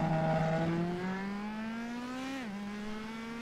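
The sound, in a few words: Formula CDM race cars heading out on track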